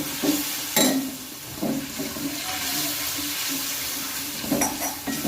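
Water poured into a hot pan of spiced sev usal curry with oil, producing a loud, rushing splash and sizzle that continues with some bubbling.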